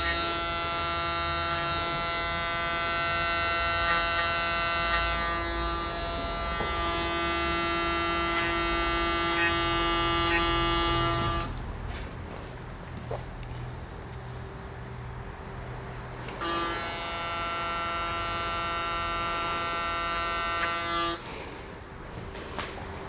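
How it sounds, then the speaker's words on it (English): Electric hair clippers buzz steadily while cutting a textured bob, a close, loud hum that runs about eleven seconds, drops to quiet room noise, then returns briefly before stopping, with no talking. "Just using the clipper."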